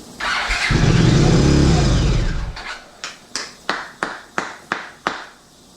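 A 1982 Honda CX500 Turbo motorcycle engine cranks after a squirt of brake cleaner: a loud, sustained churning for about two seconds, then a row of seven sharp, evenly spaced pops or clicks.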